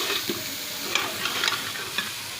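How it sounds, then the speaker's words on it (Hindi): Cluster beans (guar phali) frying in a pan while a spoon stirs them, giving a steady sizzle with scattered light scraping clicks, close and continuous, with no talking. "ऐसे हम इसमें चम्मच हिलाकर इसको भूनेंगे 1 से 2 मिनट के लिए।"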